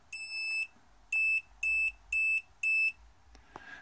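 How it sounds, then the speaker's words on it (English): A Raspberry Pi set up to signal Twitter notifications beeps out a sequence of five clear electronic tones: one long beep followed by four shorter even beeps, close and loud against a quiet room. "have it beep out a sequence"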